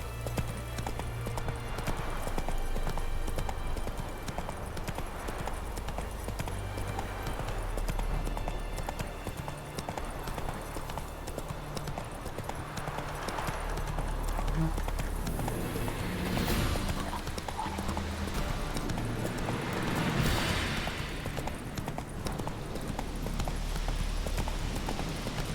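A horse in The Witcher 3 gallops continuously with rhythmic hoof clip-clops over a long stretch, moderately loud, with occasional neighs and a faint game background.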